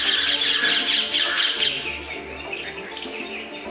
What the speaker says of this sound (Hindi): दिन भर थाने में पक्षियों की चहचहाहट सुनाई देती है।